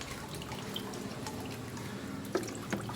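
Rice water left from washing rice, mixed with onion and banana peels, pours and drips steadily into a container, a close, continuous liquid trickle with a couple of brief splashes near the end.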